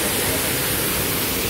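Steady, loud broadband rush of a waterfall at a nature spot, a continuous hiss filling the whole clip with no pauses or voices.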